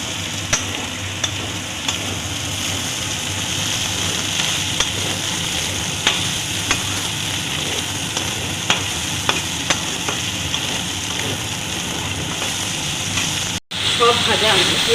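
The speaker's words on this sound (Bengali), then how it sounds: "সজনে ডাঁটাটা দিয়ে একটু নাড়াচাড়া করবো" Drumstick pieces are stirred and fried in a pan for a bitter gourd dish, with a continuous oil sizzle punctuated by regular scraping clicks of the spatula against the pan.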